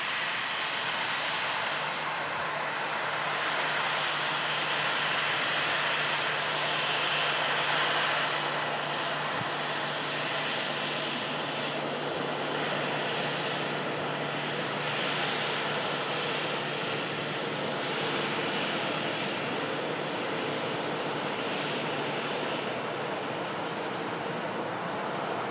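A KLM airliner departs, its jet engine roar steady and loud for the whole stretch, with a broad rushing wash and a faint low hum running beneath.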